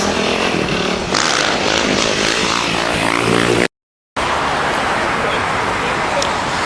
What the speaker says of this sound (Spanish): Por allá había otro de motocicleta también,